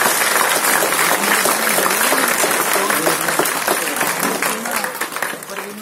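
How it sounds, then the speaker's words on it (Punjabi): A crowd claps heartily at a school prize function, a sustained wash of applause fading slightly toward the end, with a voice audible over it. "ਜ਼ੋਰਦਾਰ ਤਾੜੀਆਂ ਹੋ ਜਾਣ।"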